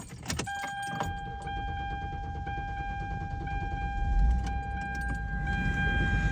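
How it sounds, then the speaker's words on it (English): A 2007 Hyundai car engine is started after the battery terminals were reconnected, with keys jangling at first, then a steady engine running close by with a continuous hum and a whining tone throughout, and no talk. "So let's go start the car."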